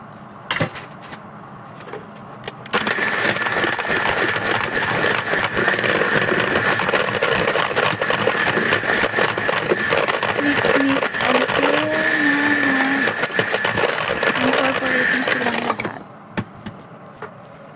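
An electric mixer whirs loud and steady through cake batter for most of the stretch, with a brief faint clink before it starts and again after it stops.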